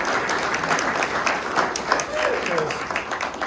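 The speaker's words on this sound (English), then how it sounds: "let's give him a round of applause" A round of applause from the audience at an Indianapolis Kiwanis club meeting, dense steady clapping filling the room for the full stretch, with some crowd noise mixed in.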